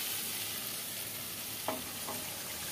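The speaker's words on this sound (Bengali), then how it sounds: "এবার এই মশলাগুলোকে আমি একসাথে করে একটু ভালো করে ভেজে নেব" Spices frying together in a pan, a steady close sizzle with two brief stirring scrapes near the end, no speech.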